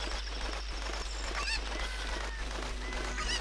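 A cucco chicken in Zelda: Ocarina of Time squawking as it is grabbed, with honking, goose-like cries over a steady game background hum and no talk.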